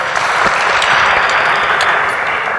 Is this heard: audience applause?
yes